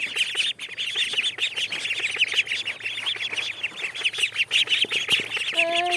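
A flock of ducks waiting to be fed call continuously in loud, overlapping quacks and chatter close by, the racket carrying on throughout.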